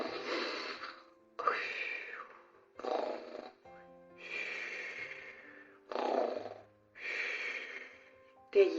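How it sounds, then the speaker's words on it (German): Loud, drawn-out snoring from the wolf in the Grimm tale of Little Red Riding Hood, repeating in about six long rasping breaths with short pauses between them, close and alone. "wie kann die alte Frau so schnarchen?"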